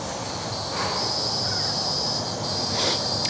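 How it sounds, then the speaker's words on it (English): Outdoor cicadas on a rainy summer evening form a steady, loud, high-pitched droning buzz that continues throughout without speech. "Cicadas."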